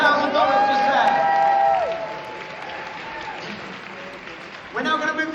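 Applause from the crowd at a charity anniversary gala swells for about two seconds with a few cheers, then thins to a faint patter while a presenter speaks through it.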